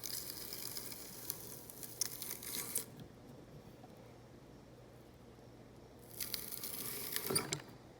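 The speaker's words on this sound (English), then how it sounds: "So essentially all it's doing is it's slicing them in half." A French bean slicer cutting beans in half, giving two short bursts of crisp, rasping, tearing sound separated by a quiet pause, faint and close.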